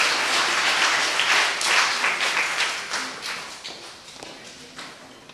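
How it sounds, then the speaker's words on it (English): A school audience at a primary school end-of-year ceremony applauds as the head teacher is welcomed to the stage, dense clapping that thins out over several seconds. "Could you please give her a round of applause as we welcome her to the stage?"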